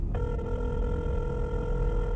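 Telephone ringing in a horror game trailer, a steady electronic ring starting just after the opening and holding continuously to the end over a low rumbling background.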